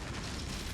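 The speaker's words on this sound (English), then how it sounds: "they just destroyed a residential tower" A residential tower blown apart in Mechwarrior 5, a dense, loud roar of explosion and crumbling debris that fills the whole short moment.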